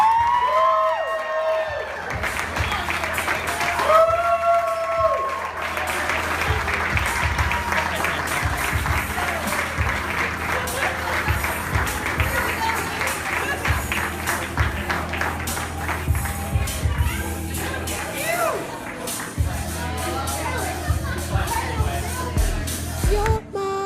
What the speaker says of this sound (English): let's give a big round of applause for Mr. and Mrs. Key